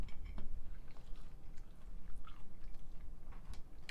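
Chewing a bite of homemade ham and cheese calzone, soft wet mouth sounds with a few crisp crust crunches, close and quiet with no talking.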